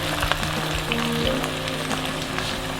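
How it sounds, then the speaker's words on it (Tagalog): Soy sauce poured into a pan of sizzling chicken feet adobo, a steady crackling fry with scattered pops, close and continuous. "Lagyan na natin ang soy sauce."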